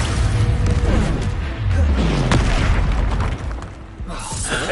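Repeated heavy booms from an Expulso spell explosion in the Hogwarts Legacy video game, deep rumbling blasts with crackling debris that fill the whole clip, loud and close.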